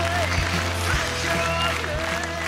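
A studio audience applauds in a short burst of clapping, with a voice talking over it and a low, steady hum underneath.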